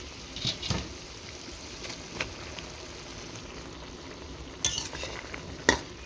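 Jute greens are stirred into a simmering curry of small fish. A soft bubbling bed lies under scattered spoon scrapes and a few bright metallic clinks against the pot, with no voices.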